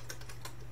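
Metal reproduction WW2 bayonet clicking against other metal bits in its fittings, a few faint, quick light clicks over a steady low hum.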